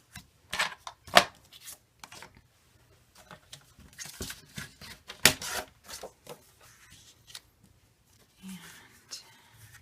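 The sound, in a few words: scoring gray material with a blade before cutting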